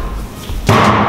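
A sledgehammer strikes with full force during strength training, one heavy impact landing near the end after a quiet windup, a loud close thud with a brief ringing tail.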